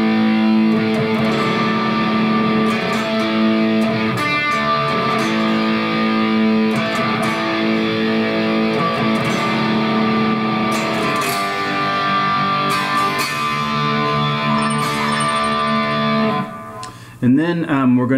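Distorted electric guitar plays the closing riff of the pre-chorus of a song, loud and continuous with thick sustained chords, then stops abruptly near the end as a brief voice comes in.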